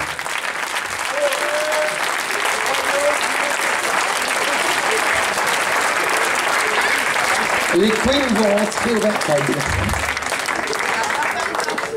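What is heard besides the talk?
audience applause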